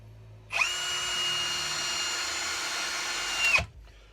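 A Ryobi R18PD7 One+ percussion drill runs on speed 1 in a single burst of about three seconds, starting sharply and stopping abruptly. It gives a steady, whining motor hum up close, with no talk.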